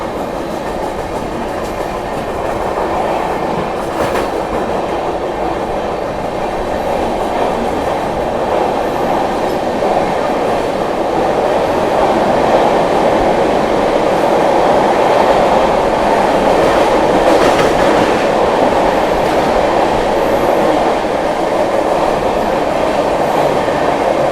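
A passenger train running through Tundla Junction on the Silchar–Delhi route gives a loud, continuous rumble with wheel clatter and faint squeals throughout, heard from on board.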